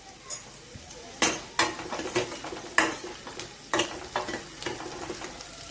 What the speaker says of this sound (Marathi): ह्याच्यामध्ये आपण कांदा टाकूया आणि कांद्याला पण व्यवस्थित फ्राय करून घेऊया।